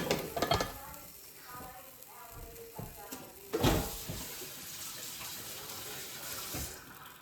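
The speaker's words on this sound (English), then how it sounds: "I'm dripping water." Hot water drips and trickles as warm apples are lifted for canning pie filling, with soft splashes and a few clinks of a utensil against a pot or jar, close by and fairly quiet.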